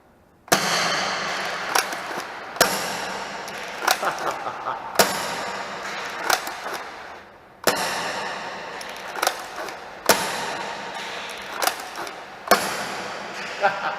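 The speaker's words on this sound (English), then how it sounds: "Let's go shoot some darts across this whole thing." A Jet Blaster X Zeus 2 toy foam dart blaster fitted with an Alpha Kit fires repeatedly, each shot a sharp loud crack followed by a hissing whoosh, about seven shots at roughly steady intervals.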